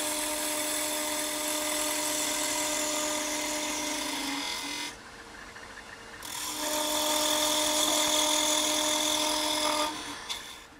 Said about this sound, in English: I'm going to use a 1/4 inch parting tool to kind of take this down a little bit